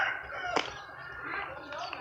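Chickens cluck and call close by in an outdoor yard where ripe tamarind is being shelled, with voices talking underneath and one sharper squawk about midway.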